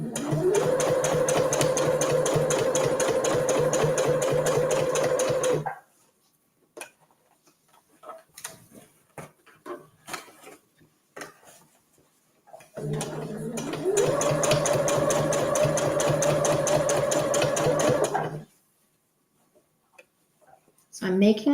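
A sewing machine stitches the fabric lining of a gift bag in two long, fast, rhythmic runs of close, loud mechanical whirring, separated by a quieter stretch of small handling clicks and brief talking.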